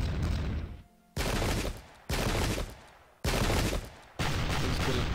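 Musket volleys in the English Civil War strategy game Pike and Shot: four loud, sudden massed bursts that each ring out and trail off over about a second, separated by brief lulls.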